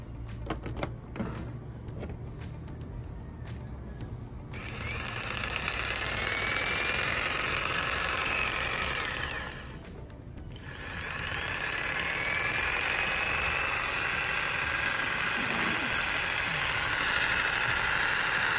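An Ingco 570W electric jigsaw (JS57028P) runs at minimum speed, giving a steady mechanical buzz and whine with a brief dip partway through, close and continuous after a few opening knocks.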